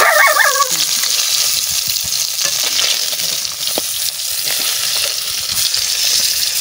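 Baus fish sizzles in hot oil in a pan, a close, steady frying hiss with scattered crackles and stirring taps, after a brief animal-like yelp at the very start.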